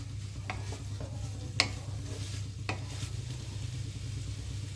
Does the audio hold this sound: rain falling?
no